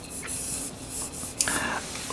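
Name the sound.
pencil sketching a circle on paper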